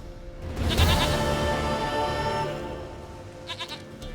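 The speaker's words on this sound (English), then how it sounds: "Goat of mine, dearest, sweetest goat." A goat bleats loudly and close in The Witcher 3, one long wavering call followed after a pause by a brief fainter bleat, with no talk.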